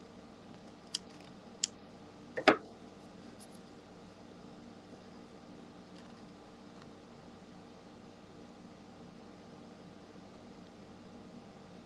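A few quick scissor snips through a paper napkin for a craft project, three or four short crisp cuts close by, the last one longest, followed by quiet room hum with no talking.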